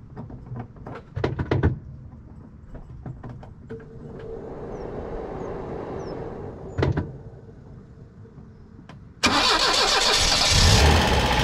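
Cold start of a 1977 Renault 20 TL engine: a few clicks and a cranking starter, then a steady whirring idle, and a sudden loud burst as the engine catches and runs roughly near the end.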